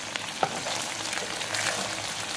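Matar kachori fry in hot oil on a low flame, a soft, continuous crackling sizzle with a few small pops, close but fairly quiet and steady throughout.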